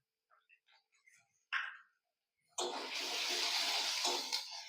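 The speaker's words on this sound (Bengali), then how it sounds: "এবার দিয়ে দেবো মশলা কষানো জল" Water poured into frying spice paste for Bengali egg curry, a few faint clinks and then a sudden loud rushing sizzle that keeps bubbling steadily.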